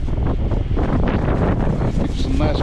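High winds at a truck stop in icy weather buffet the microphone, giving a loud, constant roaring rumble with gusty fluctuations and no pauses.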